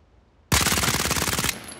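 Automatic rifle fire in the video game Caliber: one loud, close, sustained burst of rapid shots lasting about a second, with no talk.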